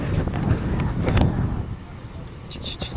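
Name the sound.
strong wind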